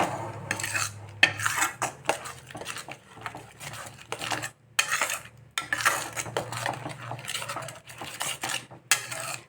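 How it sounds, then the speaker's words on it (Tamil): A sweet prasadam mixture with cardamom powder being stirred in a pan, with a spoon clinking and scraping rhythmically against the metal in close, repeated strokes, broken by short pauses and no talking. "இப்போ வந்து நம்ம இது நல்லா கிளறி கொடுத்துட்டே இருக்கலாம்."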